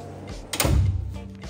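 Latch and slide mechanism on the fridge box of an Ironstone camper trailer, a single close clunk followed by a sliding rumble as the fridge slide comes out, heard alone without talk.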